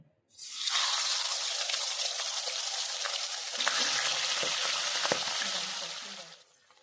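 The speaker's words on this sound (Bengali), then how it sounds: "তেলটা গরম হয়ে গেলে মাছের মাথাগুলো আমি ছেড়ে দিচ্ছি ভাজবার জন্য" Fish heads sizzle and spit as they drop into hot mustard oil in a kadai, a loud steady frying hiss close by with a few crackles and utensil knocks, no talking over it.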